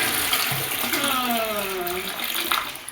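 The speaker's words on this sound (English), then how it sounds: "to have a nice fragrance whenever you flush your toilet" A household toilet flushing with a freshener placed in the water, a steady close rush of running water filling the bowl for the whole stretch with a few gurgling swirls.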